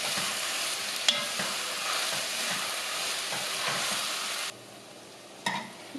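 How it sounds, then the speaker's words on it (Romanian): Sliced eggplant sizzles and fries steadily in oil in a pan while a utensil stirs it with occasional scraping clicks, and the sizzle drops sharply near the end. "Amestecăm și le lăsăm cam 5 minute,"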